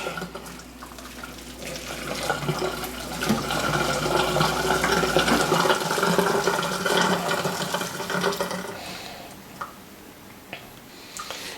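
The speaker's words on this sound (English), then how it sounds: "So we'll take our hot water, just dump it all out." Hot water poured out of a Breville automated tea maker's glass carafe into a sink, a steady rushing splash that swells, holds for several seconds, then tapers to drips.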